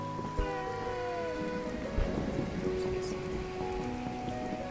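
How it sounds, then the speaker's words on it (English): Steady rain falls in A Hat in Time, a dense continuous patter heard under sustained background music tones, with a couple of soft thumps. "I do like this rain effect."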